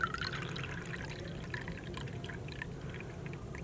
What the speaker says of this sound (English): measure 1 cup of our white grape juice. You guys can practice pouring into the cup.